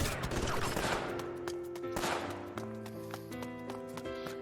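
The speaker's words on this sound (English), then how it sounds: "There were loud bellows and gunfire behind me." Gunfire in a visual novel game, heard as rapid, irregular cracks of shots over a sustained tonal music bed, moderately loud and continuous without speech.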